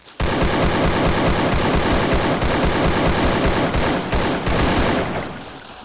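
Rapid automatic gunfire in Free Fire rattles continuously and loudly for several seconds, then tapers off, with the crisp, processed sound of a video game.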